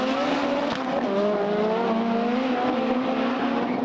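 Loud engines roar together as two front-wheel-drive cars launch hard on a drag strip, rising in pitch as they accelerate away with a tire screech.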